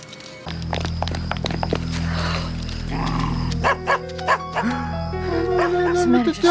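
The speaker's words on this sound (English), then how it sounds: "What's the matter? The dog. The dog." A dog barks in a scene from The X-Files episode "Humbug", a few loud sharp barks and yips arriving in the second half, over a steady low hum of background sound.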